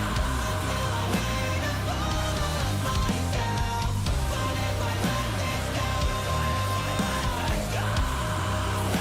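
A heavy, distorted guitar riff in a metal song pounds on continuously with dense, loud low-end chugging and a thick wall of band sound throughout.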